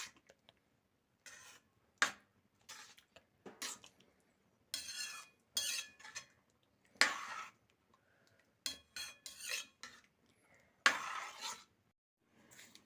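Tamarind pulp is stirred into amaranth leaf dal in a pot, giving intermittent scraping and clinking strokes of a utensil against the vessel, close and fairly faint, separated by brief pauses.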